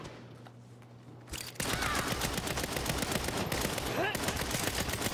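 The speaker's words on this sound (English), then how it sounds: "Stop shooting me." Rapid bursts of video game gunfire from Saints Row aimed at the player, loud and dense after a quieter opening, continuing without pause.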